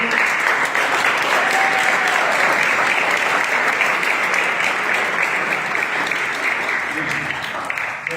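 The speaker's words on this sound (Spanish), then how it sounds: "Le damos un aplauso a los chicos nuevos" Sustained applause from a youth meeting audience welcoming newcomers, a steady dense wash of clapping throughout without letting up.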